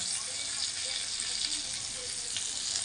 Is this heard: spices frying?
yes